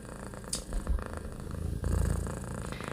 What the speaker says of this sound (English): Especially when I do readings, that's when she wants to do the purring.